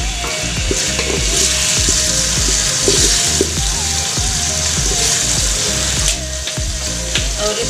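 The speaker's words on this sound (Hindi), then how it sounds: "अभी हम इसमें टमाटर डालेंगे, हरी मिर्ची डालेंगे" Tomatoes and green chillies fry in a pan with a loud, steady sizzle and crackle, with occasional stirring scrapes throughout and no talking.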